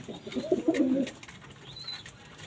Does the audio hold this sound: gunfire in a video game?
no